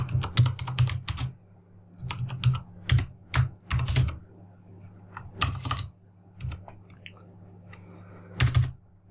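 Keyboard typing in uneven clusters of crisp, close keystrokes with short pauses between bursts, heard alone.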